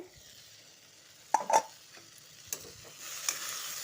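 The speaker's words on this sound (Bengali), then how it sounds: "খুব ভালোভাবে আলুটা আমি ভেজে নেব" Soft crackle of potatoes frying in a pan, with a few louder scrapes and clinks of a utensil, fairly quiet throughout.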